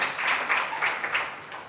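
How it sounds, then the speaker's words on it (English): Moderate audience applause at a science forum, a brief, even patter of clapping from a seated crowd that swells slightly in pulses before easing off. "Let's clap for them now again."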